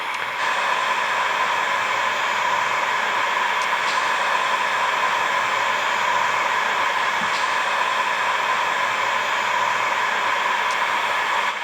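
A heat gun blows hot air continuously to shrink heat shrink tubing. It makes a steady, even whooshing hiss that stays constant throughout.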